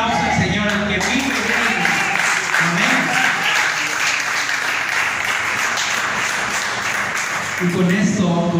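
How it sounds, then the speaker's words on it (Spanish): A church congregation breaks into sustained, dense applause that fills the room for several seconds, with voices faintly mixed in and a louder voice near the start and end. "¿Cuánto le dan un aplauso al Señor, al que vive?"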